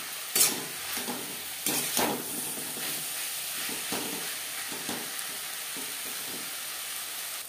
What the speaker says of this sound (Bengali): পেঁয়াজ টমেটোর সাথে আদা ও কাঁচা লঙ্কা বাটা বেশ ভালো করে মিক্স করে দেবো